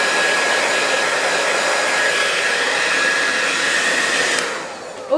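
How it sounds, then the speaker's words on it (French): A hair dryer blows steadily and loudly close by as it dries hair, a continuous airy roar that holds for several seconds before cutting out near the end. "première partie séchée, j'ai déjà un avis sur le sèche-cheveux"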